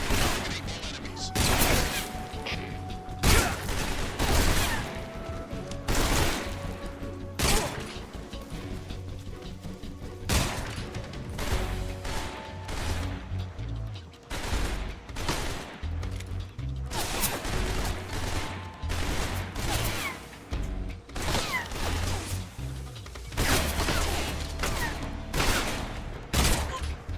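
Enemy soldiers' gunfire in Metal Gear Solid Delta: Snake Eater, loud repeated volleys and sustained bursts of shots with crashing impacts, mixed with game audio throughout.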